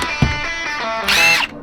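A power drill in a campervan rebuild, a short whining spin-up followed by a higher-pitched burst as the bit bites, close and loud, lasting barely over a second.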